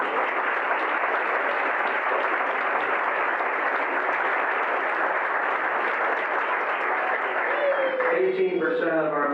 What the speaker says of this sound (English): let us give you a round of applause because you deserve it